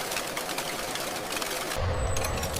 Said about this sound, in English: Perfected cigarettes are precisely fed into sophisticated packing machines, arranged into groups of 20.